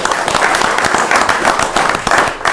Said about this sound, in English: I think we give a big round of applause to the kids for what they did.